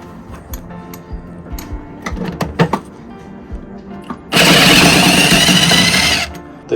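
Socket wrench or power driver loosening rusted screws on a rotten diesel generator aboard a boat at sea, heard as scattered clicks and knocks followed by a loud, steady mechanical whirring burst of about two seconds.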